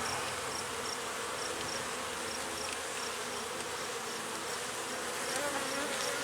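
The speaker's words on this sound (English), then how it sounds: "there's just 2 bees that keep coming at me for some reason" Bees buzz continuously close by, a dense steady drone with no voices over it.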